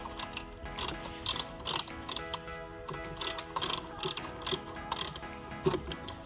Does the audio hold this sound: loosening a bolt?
yes